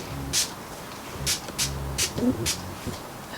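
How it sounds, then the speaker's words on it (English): Five short hissing bursts from a heat protectant spray bottle, spaced unevenly, close and crisp against a quiet background. "And then I get the heat protectant spray"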